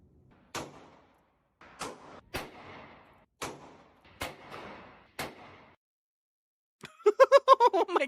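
A sawn-off revolver fires seven sharp, loud shots, each spaced well apart with a short echo. A quick rattling burst of metallic clicks follows at the end.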